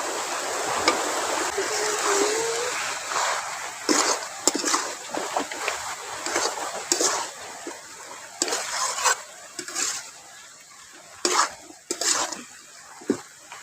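Potatoes tumbling into a pot of chicken curry, giving repeated wet splashes and sloshing stirs with clinks of a utensil against the pan, close and fairly loud with a faint voice at moments.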